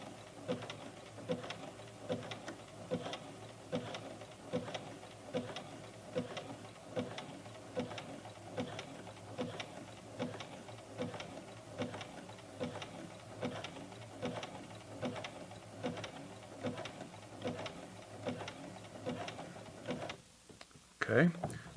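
A sewing machine runs a zigzag stitch back over joined elastic ends, producing a steady, rhythmic run of close mechanical needle pulses that continue for about twenty seconds before stopping briefly near the end.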